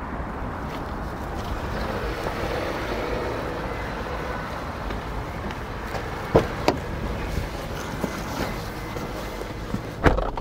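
A Torres hybrid taxi drives along a road, a steady low rolling and wind rush filling the cabin, with a few faint knocks and bumps toward the end.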